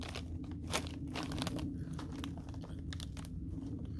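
Crunchy PeaTos nacho cheese chips made from peas being chewed close to the mouth, a steady run of crisp crackling bites and crinkles over four seconds, with no talking.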